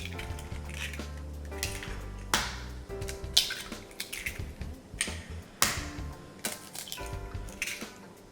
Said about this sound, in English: let's crack these eggs